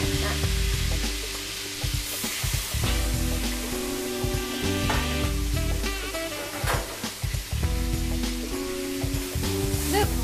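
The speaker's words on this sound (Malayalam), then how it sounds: "ഇത് ഡീപ് ഫ്രൈ ചെയ്യില്ല, കുറച്ചൊന്ന് ഒരു വറുത്തെടുക്കാം." A chilli mixture shallow-fries in a pan in a restaurant kitchen, sizzling loudly and continuously with frequent stirring and scraping throughout.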